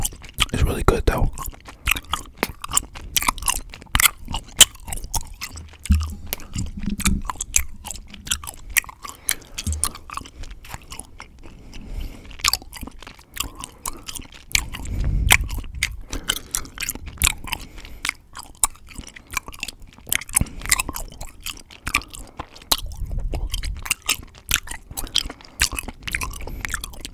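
Hi-Chew chewy candy from the Tropical Mix and Fantasy Mix being chewed close to the mic: steady wet, sticky mastication with small clicks and smacks, continuous across the stretch with a few louder bites, and no talk.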